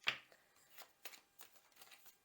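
Tarot cards riffled and shuffled by hand ahead of a Celtic cross reading, one sharp close snap followed by several soft, faint papery flutters in a quiet room.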